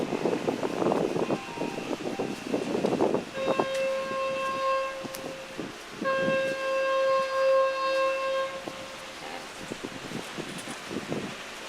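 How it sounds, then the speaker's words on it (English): Boat horns sound from watercraft leaving the dock at a lakeside resort lodge, distant sustained tones that repeat among outdoor ambience and brief murmuring. "Those toots you hear in the background are actually the watercraft as they're leaving dock."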